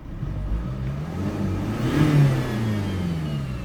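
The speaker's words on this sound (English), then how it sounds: "Restart the engine and look at this." Mercedes C220 W204 diesel engine restarting after repair of a no-power accelerator fault, a close, steady mid-pitched engine hum that rises briefly in a short rev before settling back to a smooth idle.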